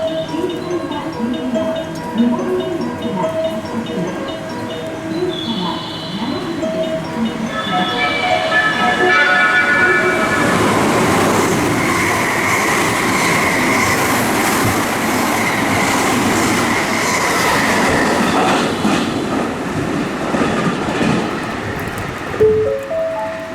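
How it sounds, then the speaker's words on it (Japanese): A JR West train runs through Suita station on the Kyoto Line without stopping, starting faint with a platform announcement tone before it. It swells into a loud, sustained rumble of wheels and cars, then fades near the end. "3番乗り場、電車が通過します。"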